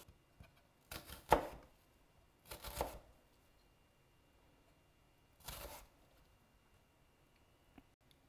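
A kitchen knife makes three separate vertical cuts into an onion, each a short crisp crunching burst against the board, with quiet pauses between and a faint tap near the end.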